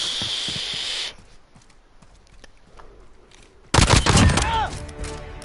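Gunfire in Modern Warfare, a burst of shots at the start, a quieter stretch with faint clicks, then a loud rapid volley of automatic fire that runs to the end.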